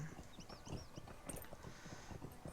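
Hooves clip-clop as a horse is ridden in a video game. The quiet, steady beats sit under faint background tones, with no talk.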